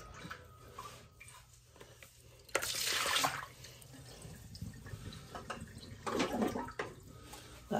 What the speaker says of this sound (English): So, let's get some of this water out.